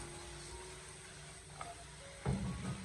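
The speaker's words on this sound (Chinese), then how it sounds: "然后再继续的将其翻炒几下，把它翻炒均匀，给它炒出锅气" Chicken feet and green chili stir-fried with a little extra oil in a wok, giving a steady, faint sizzle that swells into a louder scrape and clatter of tossing near the end.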